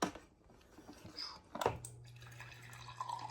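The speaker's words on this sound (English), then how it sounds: "Put some water." Water trickles and drips into a glass in a quiet kitchen, faint and close, with a few light splashes and a soft, steady run of liquid toward the end.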